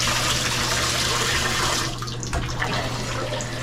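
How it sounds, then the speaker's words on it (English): Water from a hotel room shower runs in a steady, loud broadband hiss, easing slightly partway through, with no talking over it. "So that's the shower pressure and water starts."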